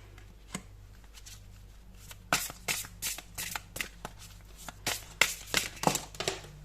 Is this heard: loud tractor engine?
no